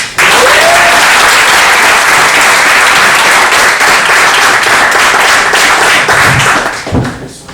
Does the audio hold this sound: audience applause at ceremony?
yes